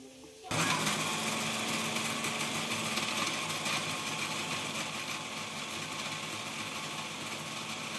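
A kitchen mixer grinds soaked masala spices into paste for a West Bengal fish curry, starting abruptly and running as a loud, steady high-pitched whir.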